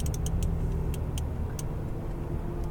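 A Ferrari 488 GTB rolls forward slowly on a Las Vegas track under light throttle, giving a low, steady engine rumble with faint intermittent ticking clicks above it and no voices.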